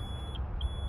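A warning alarm on a 1988 Mercury 200hp BlackMax outboard with faulty temperature sensors sounds two short, high, thin beeps over a low steady hum.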